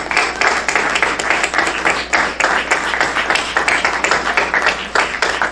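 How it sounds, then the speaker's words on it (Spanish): A church congregation claps together in sustained, steady applause, dense rhythmic hand claps filling the room for several seconds without talk. "¿Por qué no damos un aplauso al Señor?"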